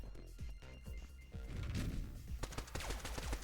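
Rapid video game gunfire from a roguelike shooter, sharp repeated shots and impacts bursting in quick irregular volleys that grow denser and louder toward the end, alone without speech.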